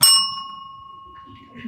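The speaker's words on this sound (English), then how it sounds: "a red card will be shown and a bell tone will ring" A single struck bell tone signals that a presenter's time has expired at a youth entrepreneurship competition, a clear bright ring that sustains and slowly fades while faint room murmur continues beneath it.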